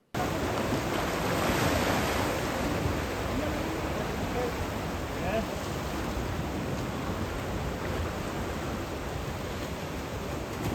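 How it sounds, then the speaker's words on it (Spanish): Sea waves rush and churn steadily, a dense close roar of surf with wind buffeting, continuous and unbroken throughout. "cada media hora ha estado entrando y saliendo y recogiéndose el mar"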